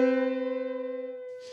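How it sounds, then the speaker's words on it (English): Two sustained synthetic tones in a dissonant 87/46 frequency ratio, just off an octave, sound together, producing a fast audible wobble of beating that fades over about a second before a brief noisy tail. "87 over 46 sounds like this"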